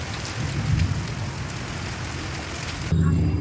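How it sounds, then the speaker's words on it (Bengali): Heavy rain pours during an afternoon storm, a dense, steady hiss of drops on surfaces with low rumbling beneath, loud and close throughout with no talk. "ঝড়ের সাথে তারপরে বৃষ্টি শুরু হলো।"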